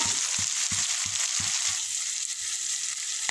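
Spices and ingredients fry in a pan with a steady, bright sizzle throughout, while soft rhythmic low taps of stirring come through during the first half.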